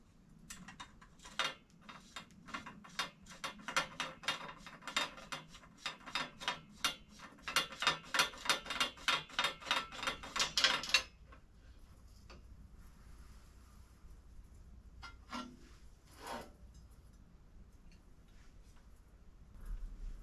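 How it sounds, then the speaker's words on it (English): Campagnolo headset on a Carrera Battaglin team bike being tightened, giving a long run of close, rapid ratcheting mechanical clicks that grow louder and denser before stopping, followed by a few faint metallic knocks, with no talking. "So that's the Campagnolo headset all tightened up and set really good like that."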